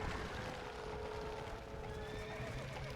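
A horse in Red Dead Redemption: Undead Nightmare whinnies amid a dense, steady wash of game sound, the call thin and fairly faint within the mix.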